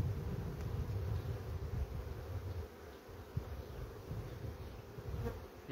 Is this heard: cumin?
no